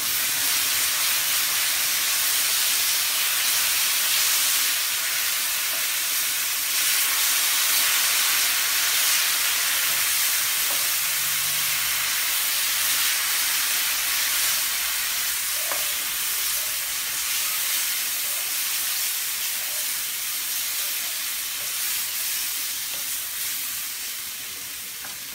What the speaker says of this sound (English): I'm going to take a little of jar of gravy just to reduce that down a little bit.